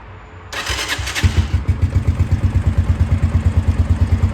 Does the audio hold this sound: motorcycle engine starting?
yes